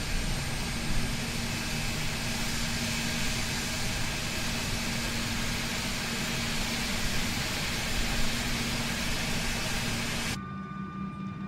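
An Embraer E175 jet's number 2 engine spooling up in MSFS 2020, a steady broad roar with a thin whine riding on top, continuous and loud before dropping abruptly near the end.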